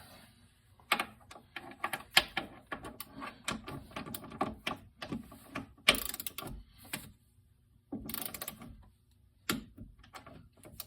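A torque wrench clicks while tightening shock bolts on a C6 Corvette: a busy series of sharp mechanical ratcheting clicks and metallic ticks at close range, in uneven bursts with brief pauses, and no talking.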